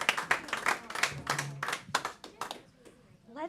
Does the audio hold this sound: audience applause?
yes